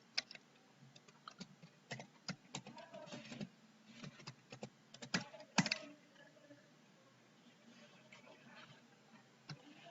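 Quiet, rapid typing on a computer keyboard in a terminal window, with irregular clusters of light key clicks and a few sharper taps over faint room hiss.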